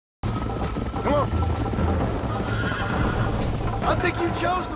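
A horse in the Red Dead Redemption game whinnies loudly several times over a steady clip-clop of hooves, with voices talking over the riding sounds.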